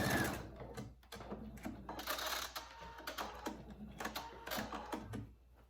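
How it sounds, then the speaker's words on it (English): A sewing machine runs in short bursts while stitching extra reinforcing seams on a small fabric rescue microbat pouch, with brief pauses between runs, close and moderately quiet. "I'm just going to sew a couple extra seams just to make sure it's reinforced"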